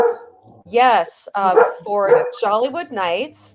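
A dog barks sharply several times in a row, loud and close, overlapping someone talking.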